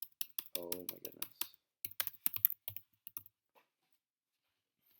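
Fingers tap out quick bursts of crisp, clicky keystrokes on a computer keyboard, pausing between runs, while a voice briefly sounds near the start.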